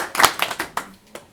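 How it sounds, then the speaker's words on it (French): A few people clap at a startup meetup talk, about half a dozen sharp, close claps in a quick uneven burst that fades out within a second. "Ouais, on peut applaudir."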